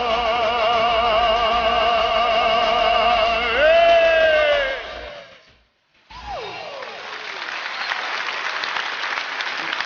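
A concert audience in a large hall breaks into applause as a sustained vocal note ends, a dense wash of clapping that builds after a brief pause.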